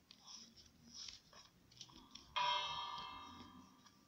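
A Minecraft bell is struck once after some quiet ticking and crunching, ringing out clearly and then slowly decaying.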